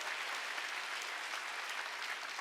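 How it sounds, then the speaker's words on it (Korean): Members of a church congregation at a Sunday worship service clap as a group, a dense even wash of applause that carries on steadily for a couple of seconds without speech. "깨달은 사람만 박수 쳐요."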